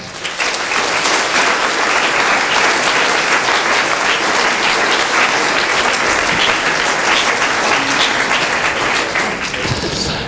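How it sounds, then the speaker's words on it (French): Sustained audience applause at the close of an evening round-table conference, a dense, steady wash of clapping that holds at full level for the whole stretch before easing slightly at the end. "Je vous invite à un dernier applaudissement pour les intervenants ce soir"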